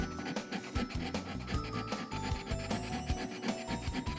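A thick box cutter scraping manga paper to make highlights, heard as close, rapid back-and-forth rasping strokes in a quick, uneven rhythm over a few seconds, with no talking.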